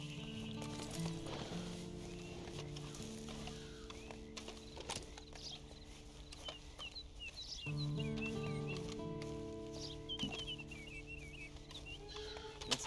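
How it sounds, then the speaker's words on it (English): In Red Dead Online, rhythmic horse hoofbeats clip-clop steadily at a walking pace, with birds chirping and faint tonal music in the background. "Then you better get on this horse"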